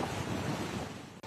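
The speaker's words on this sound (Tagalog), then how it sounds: "habang sa pantalan, mataas na mga alon ang humampas" High waves crash continuously at a port during Typhoon Julian, a loud broadband roar of surf mixed with strong wind buffeting the microphone, steady for the whole moment.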